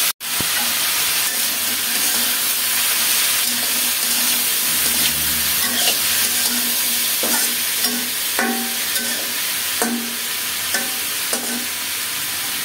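Pointed gourd and carrot frying in a hot pan give a steady, loud sizzle with repeated stirring scrapes and clinks throughout, alone without talk.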